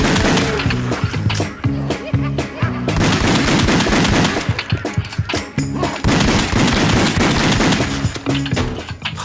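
Rapid gunfire from the House of the Dead Overkill video game rattles continuously against loud music as clowns are shot, with dense, near bursts throughout.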